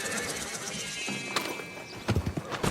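An old horse in the Red Dead Redemption 2 video game clip-clops a few steps and gives a whinny over soft ambient game sound, close and fairly quiet, with hoof thuds near the end.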